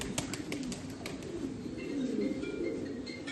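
Pigeons, including a crested female, coo softly in a loft of birds kept for auction, low throaty calls close by with faint chirps and a little rustling in the background.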